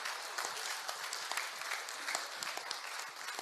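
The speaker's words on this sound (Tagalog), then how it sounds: "Isang palakpak nga para kay Senator Larry Gadon." Audience applause for a senator at a Philippine political rally, steady crowd clapping heard from a distance at low level, continuous throughout.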